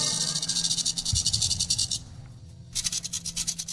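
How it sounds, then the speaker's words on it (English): A movie-style rattlesnake rattle effect buzzes in rapid, steady pulses, loud and close, with a short pause before the dry rattling resumes alone. "Let's start with the movie rattlesnake."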